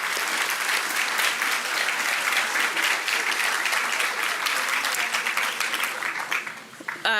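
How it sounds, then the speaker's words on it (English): An audience at a Doctor of Physical Therapy white coat ceremony breaks into loud, sustained applause, dense clapping that carries on steadily for several seconds before tapering off. "Let's give a round of applause for the class of 2027 again."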